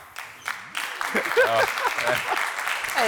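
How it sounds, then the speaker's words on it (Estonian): Applause breaks out from a studio audience on a comedy quiz show, a burst of clapping that rises and carries on while voices talk over it. "Tavaliselt on aplaus."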